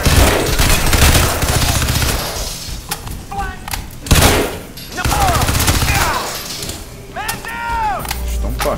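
Gunfire from the video game Crysis 2: loud, repeated bursts of shots and heavy thuds crack out across the clip, with some voices mixed in among the shooting.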